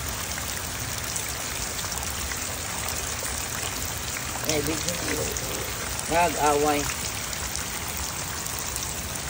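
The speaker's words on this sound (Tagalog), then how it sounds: "Ulan man kaayo." Steady rain pours down outdoors where homeless cats are being fed, a dense, even patter throughout, with a voice talking over it in a few short bursts.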